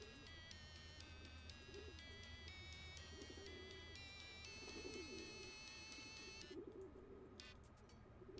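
Pigeon-like birds coo repeatedly in the video game Hiveswap Act 1, over steady high electronic game tones and a low drone, fairly even and continuous, with no speech.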